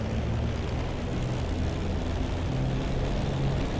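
A Spitfire LF Mk. IX piston engine in the DCS flight simulator throttles up for takeoff, a steady, dense, low droning roar holding constant loudness throughout with no voices.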